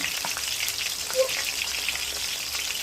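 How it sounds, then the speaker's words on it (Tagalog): Steady sizzling of mackerel frying in hot oil, a constant crackling hiss with occasional pops, close by and without talk. "prito muna tayo ng panglagay ito pritong tambakol"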